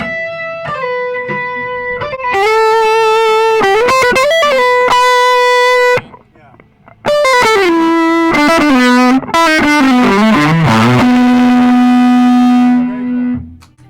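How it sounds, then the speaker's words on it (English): An electric guitar plays sustained notes and bends through a smooth EarthQuaker Devices overdrive pedal, loud and singing, with a short pause midway before more held, sliding notes. "So we can get a bit of a smoother overdrive sound."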